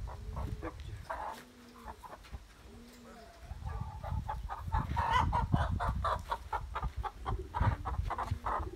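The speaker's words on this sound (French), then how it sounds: "encore une poule Brahma" A Brahma hen clucks repeatedly at close range, soft murmuring calls broken by sharper clucks, with rustling and light thumps around her.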